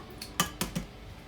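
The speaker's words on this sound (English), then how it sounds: "Next stage is to crack your eggs into the milk" Eggs are cracked against a bowl of milk while making fruit scones. A few sharp, quiet knocks and taps come in quick succession.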